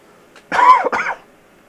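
A single close, sharp cough from one person in two quick bursts, alone against a quiet background.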